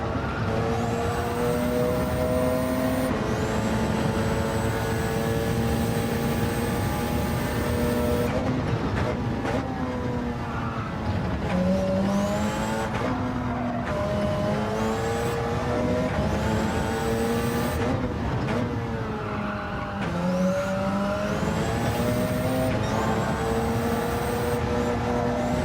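A Porsche 919 Hybrid race car in Gran Turismo 7 screams through repeated high-revving acceleration runs, with pitch sweeping up through the gears and dropping sharply on shifts and braking, loud and continuous, with no talking.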